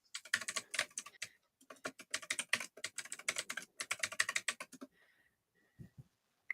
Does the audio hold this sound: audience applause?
no